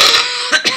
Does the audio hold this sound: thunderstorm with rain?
no